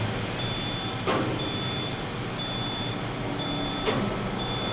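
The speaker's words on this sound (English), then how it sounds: "What's that beeping? Fire alarm controls." A thin electronic beep from a fire alarm control panel repeats at a steady pace over a low mechanical hum, with a couple of soft clunks, near OTIS hydraulic elevators.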